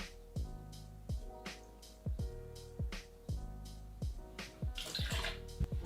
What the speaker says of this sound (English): the first ingredient to the shaker, guys, is 30ml or 1 ounce of freshly squeezed orange juice